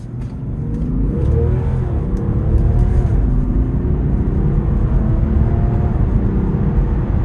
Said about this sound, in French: Ce moteur est très rageur pour un moteur diesel